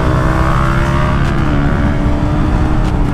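Motorcycles in a drag race, a Yamaha R15 against a KTM Duke 200, accelerating hard. The engine roar is loud and steady and fills the whole stretch, with no talk over it.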